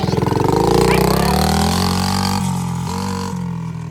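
A small, cheaply bought motorbike with a newly fitted carburetor revs hard in first gear, its buzzing engine note climbing in pitch and then holding a steady high drone, loud and near.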